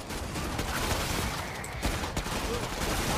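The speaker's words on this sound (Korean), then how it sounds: "한발로 쏘고 있어" Single-shot gunfire from a Commando's rifle in the Killing Floor 2 video game, a steady stream of loud sharp reports over dense combat noise.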